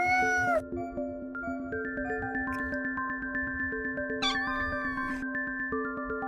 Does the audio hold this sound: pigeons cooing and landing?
no